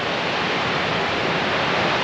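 Waterfall on the Bloomfield Track: dense, steady broadband roar of falling water, loud and unbroken throughout, with no voices.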